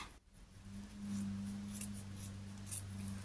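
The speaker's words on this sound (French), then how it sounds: "Je coupe un peu en biais" Scissors snip through material at a slant while making a Christmas decoration with a jar, socks and lights, giving quiet close crisp cuts over a low steady hum.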